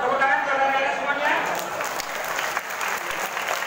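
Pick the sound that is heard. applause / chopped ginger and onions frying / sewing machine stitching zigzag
applause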